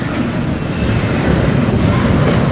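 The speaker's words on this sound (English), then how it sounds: "That's the end of this train." A Union Pacific train passes close by with a loud, continuous low rumble and rolling roar that holds steady throughout and has no voices over it.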